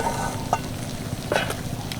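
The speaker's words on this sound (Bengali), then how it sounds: "সবগুলো মাছ উল্টে দিয়েছি এবার এই পিঠটাও একইভাবে ভেজে নেবো" Lote fish, dusted with masoor dal powder and turned over, fry in a pan with a steady close sizzle broken by a few brief scraping knocks.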